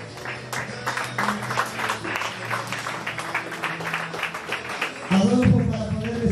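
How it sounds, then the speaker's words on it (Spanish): A crowd claps steadily for several seconds under low music at a wedding, with a voice speaking loudly near the end. "Fuertes aplausos, por favor."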